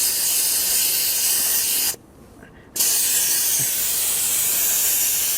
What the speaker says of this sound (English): Start letting your tyres down. Now I want them around that 18 psi mark.